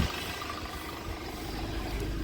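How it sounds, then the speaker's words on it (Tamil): A Maruti Swift Dzire with nearly 3 lakh kilometres on it idles during a decarbonising service, giving a steady, close, low mechanical hum and rumble with no voices. "Engine noise."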